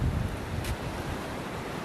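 A strong current of river water rushes where it flows into the sea at Agno, Pangasinan. It makes a continuous broadband wash with heavy wind buffeting on the microphone, and a brief hiss comes near the middle.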